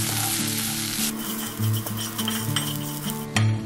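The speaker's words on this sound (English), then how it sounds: "So I'm going to add all of it into the onions. And then saute it again." Onions with garam masala and nutmeg powder sauté in a pot for mutton curry, a continuous sizzle broken by a few metallic scrapes and clinks of a spoon against the pan, with no voices.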